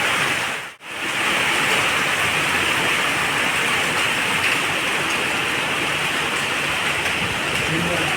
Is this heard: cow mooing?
no